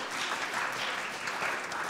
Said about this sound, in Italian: Bene, un applauso anche per Giulia